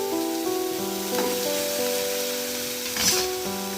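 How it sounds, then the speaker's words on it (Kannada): Ingredients for peas chaat frying in a pan, a steady close sizzle running throughout with a brief louder burst of spitting near the end, no voices. "ಫ್ರೈ ಆಗಲಿ."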